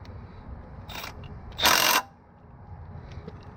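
A Milwaukee 2564 3/8-inch right-angle impact wrench tightening bolts: a short, loud rattling burst of about half a second, close by, with a fainter brief mechanical whir just before it.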